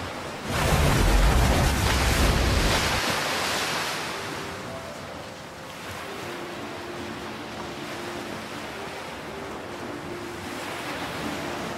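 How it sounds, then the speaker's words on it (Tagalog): Sea waves of the parted Red Sea rush and roar loudly, surging hard in the first few seconds before settling into a steady, wind-blown wash of water with faint tonal notes above it. "Naghiwalay ang dagat!"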